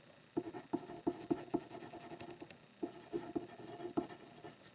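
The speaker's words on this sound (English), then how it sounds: "I want to write down rectangular prism." A pen or pencil writes notes by hand on paper in a quiet room, making soft scratches broken by sharper taps at letter strokes, in short irregular bursts.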